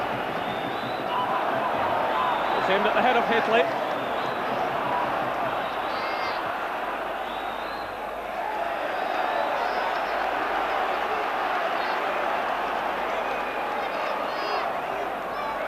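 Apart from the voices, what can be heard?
huge football crowd cheering Rangers team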